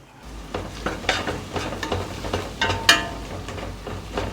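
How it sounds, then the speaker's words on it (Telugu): A spoon stirs ginger-garlic paste into frying onions for a mutton curry, making a rhythmic series of scraping strokes against the pan over a continuous sizzle, close and fairly loud. "ఈ అల్లం వెల్లుల్లి పేస్ట్ పచ్చివాసన పోయేంత వరకు కలుపుకోండి"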